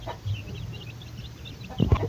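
Young pet chicks, eight of them with a mother hen, peep softly and high-pitched while being fed, with a louder flurry of clucking and scratching near the end.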